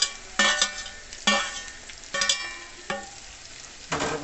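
Eggs and chili fry together in a hot pan, sizzling steadily while a utensil stirs them in about five distinct close strokes, each bringing a brief louder hiss.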